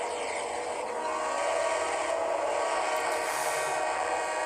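A train reverses along a line in the rail simulator Trainz Driver. A faint, steady mechanical rolling hum with light metallic hiss runs continuously, distant and unaccompanied by any voice.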